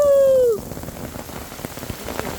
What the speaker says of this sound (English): When you're trying to make barbecue and it starts raining